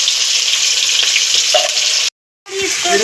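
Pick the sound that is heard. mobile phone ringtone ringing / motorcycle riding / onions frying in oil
onions frying in oil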